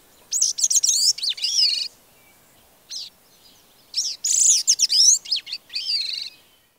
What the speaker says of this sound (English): The gray-cheeked thrush gives a complex jumble of notes, descending in pitch.